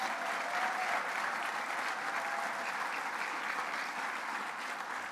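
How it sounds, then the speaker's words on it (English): Steady, dense applause from an audience honoring a graduating recruit class, Recruit Class 55, filling the room evenly and loudly with no break. "Can we have another round of applause?"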